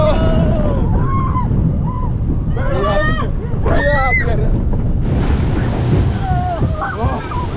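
Water rushes and splashes during the Speed Water Coaster ride at Energylandia in Zator, Poland, a loud continuous wash with gusting wind, while riders shout and talk over it.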